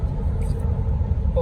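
Interior of a car driving home on the road, a steady low engine and road rumble with a person talking over it.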